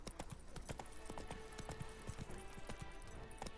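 Horse hooves clip-clop steadily in The Witcher 3: Blood and Wine, a quick, even rhythm of hard strikes at a moderate, fairly quiet level with no talk over it.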